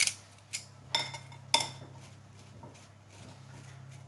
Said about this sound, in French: Donc, je vais fariner un petit peu toutes mes pommes ici et je vais